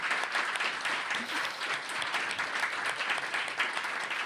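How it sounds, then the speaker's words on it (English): An audience claps steadily through the room for the 2021 Stella Prize winner at a book prize event, sustained applause with no voices over it. "Please give Evie another round of applause."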